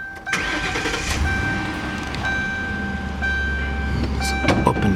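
A 2009 Ford Crown Victoria Police Interceptor engine cranks briefly and catches, then settles into a steady, close, loud idle with a low rumble and faint whine.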